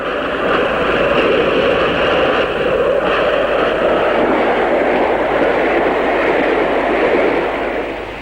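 A British Railways Class 40 diesel locomotive hauls a train past, a loud, steady engine roar with rumbling wheel noise holding throughout before fading slightly at the end.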